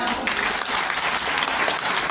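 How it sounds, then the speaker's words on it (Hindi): A steady, dense wash of crowd applause, many hands clapping loudly and continuously throughout. "इनके इस योगदान के लिए जोर से तालियां"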